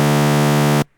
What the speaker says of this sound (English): See, this is the sound before it goes into the limiter. It's got the sine wave